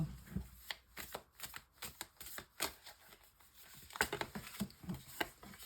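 Tarot cards are shuffled by hand for a nine-card spread: close, quiet riffles and soft slaps of card stock on a surface, coming in irregular bursts.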